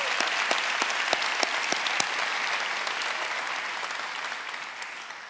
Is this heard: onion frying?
no